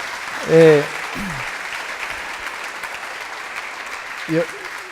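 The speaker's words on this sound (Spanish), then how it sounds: "démosle un aplauso al Señor" A church congregation applauds, a steady wash of clapping under which a few brief voices call out near the start and end.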